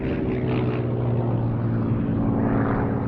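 A Hawker Hurricane propeller fighter plane flying at an airshow, its engine drone loud and steady throughout, with a rough buzzing roar.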